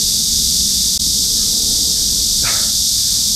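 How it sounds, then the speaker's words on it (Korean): Dense, steady insect buzz of cicadas fills the upper range continuously, loud and unbroken, with a brief faint rustle partway through and no talking. "와, 매미 소리 장난 아니다."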